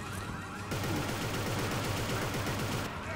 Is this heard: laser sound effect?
no